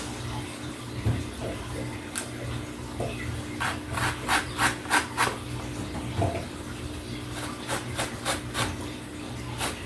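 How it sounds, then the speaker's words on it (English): Zest being grated from a Ponderosa lemon for a pound cake: a run of quick, bright rasping strokes in bursts, close and fairly soft, with no talk. "And I will get a little bit of zest."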